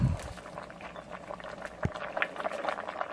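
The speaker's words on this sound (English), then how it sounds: "Here I started with boiling 2 pounds of spaghetti noodles." Two pounds of spaghetti boil in a pot, a steady close bubbling with quick pops and light splashes throughout, and no talk.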